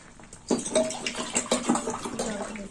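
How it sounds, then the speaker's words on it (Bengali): Water is poured into a cooking pot while making a Bengali helancha greens sukto, a splashing gush starting abruptly and running unevenly for a couple of seconds. "আর একটু জল দেবো"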